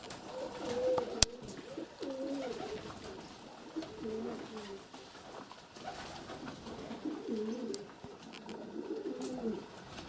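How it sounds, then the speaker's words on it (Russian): Soft, low pigeon coos repeat in short phrases over a steady outdoor background, with one sharp click early on; pigeon courtship songs. "А тут еще и голуби-то едят, а тут сразу воробьи."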